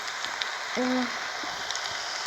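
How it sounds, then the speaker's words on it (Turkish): Steady rain in Roblox Brookhaven hisses softly throughout, with a brief hooting tone near the start and faint scattered drips. "Yağmur sesleri"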